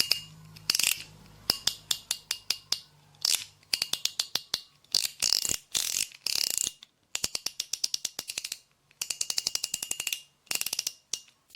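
A fidget spinner's slider clicks along a dense 14-segment track, giving crisp, rapid ratchet-like clicks in quick bursts with short pauses between runs, close and alone.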